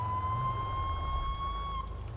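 A police car siren in the GTA V FiveM roleplay game sounds a steady, loud wail close by, running without a break over engine rumble.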